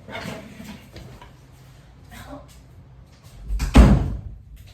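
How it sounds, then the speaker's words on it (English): A room door swings shut with a solid thump near the end, after quiet shuffling movement indoors. "I'm gonna close the door."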